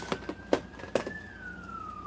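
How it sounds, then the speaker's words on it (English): An ambulance siren sounds as the vehicle passes outside, a steady wailing tone that slowly falls in pitch, with a few soft knocks and clicks nearby. "Got the ambulance going by."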